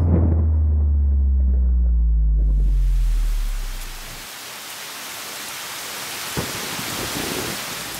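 A low rumble fades out, then a dense, steady hiss of torrential rain takes over on a marathon day, loud and close with no voices.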